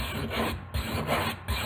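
A knife blade scrapes back and forth on a wet whetstone in steady rhythmic strokes, about four even rubbing passes close by with a gritty hiss, no voices.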